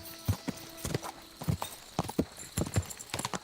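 Horse hooves clip-clop in a quick, uneven rhythm as a rider travels in the medieval video game Kingdom Come Deliverance 2, the steps close and fairly soft.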